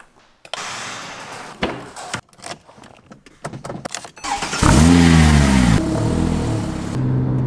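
Porsche 997-generation 911 Turbo with its rear-mounted twin-turbocharged flat-six, heard first as scattered clicks and door thuds, then the engine firing and revving loudly up and down in a garage, holding a strong, steady idle afterward.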